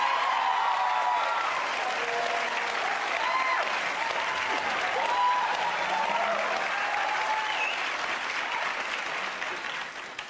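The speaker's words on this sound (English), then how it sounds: "No, they don't need you to tell them when to clap." A TV talk-show studio audience claps steadily for about ten seconds, a dense wash of applause that fades slightly at the very end.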